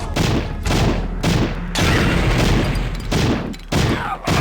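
Bursts of M60 machine gun fire in Powerslave/Exhumed on a Sega Saturn, loud rapid volleys separated by short pauses.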